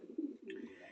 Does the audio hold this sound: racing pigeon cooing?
yes